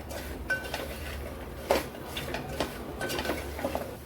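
Salted red pumpkin vegetable mixed in a pan with a spoon, a steady run of soft scrapes and occasional bright clinks against the metal, close and fairly quiet.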